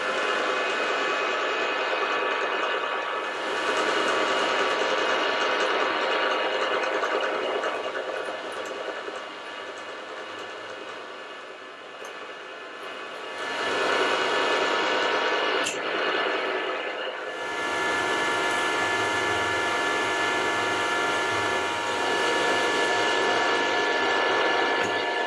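A 6mm reamer turns at a slowed speed in a machine, giving a steady, loud mechanical whir and grind that eases off for a few seconds midway and then returns.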